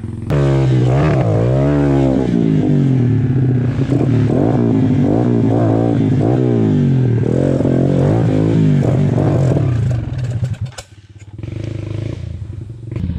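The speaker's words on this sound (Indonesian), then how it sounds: "Oke guys, tinggal motor gue ya." A motorcycle engine on an off-road trail, running loud and close with repeated revving swells and throttle bursts, then dropping to a rougher idle near the end.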